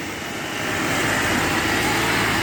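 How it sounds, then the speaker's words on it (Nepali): A vehicle approaches along a local road near Burtibang, its engine rumble and broadband road noise swelling steadily louder and closer, heard alone without talk. "गाडी आएको छ"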